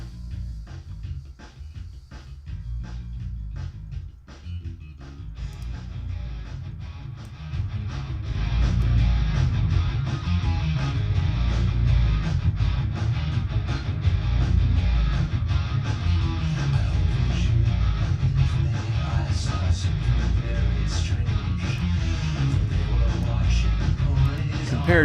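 A song plays through the Airwindows full console system plugin, starting sparse and quieter, then filling into a dense, steady full mix after several seconds, with no talking.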